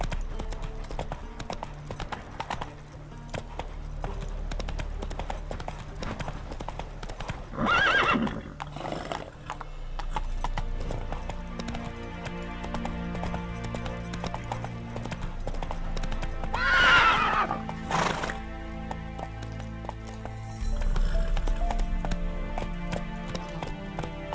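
Roach, the horse in The Witcher 3, galloping with loud rhythmic hoofbeats and two distinct whinnies partway through, over a steady game soundscape.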